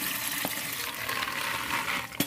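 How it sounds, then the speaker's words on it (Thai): Soaking water is poured off black beans, a continuous close splashing gush of water running out of the container with a couple of small clunks near the end. "เราก็จะเทน้ำออกนะคะ"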